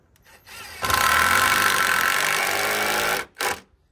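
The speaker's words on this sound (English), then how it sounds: "slam a couple more screws on this side." A power driver sinks screws into wooden 4x6 framing for a wheelchair ramp: one loud, steady whirring run of about two and a half seconds, then a brief second burst, heard close and alone.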